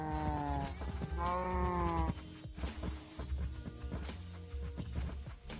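Sheep in a video game bleat in two or three drawn-out, wavering calls, followed by clopping footsteps and other scattered game sounds at moderate volume.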